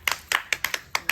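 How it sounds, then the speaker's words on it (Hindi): Hand claps at a wedding garland ceremony, seven sharp claps in a loose, uneven rhythm, close and fairly quiet with no one talking. "हाँ ताली बजा दियो पंडित जी ताली बजाओ"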